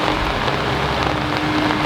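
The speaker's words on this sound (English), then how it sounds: "The rain has really come down." Heavy rain pouring down steadily around an excavation site, a dense, loud, even hiss of drops with no breaks and no voices.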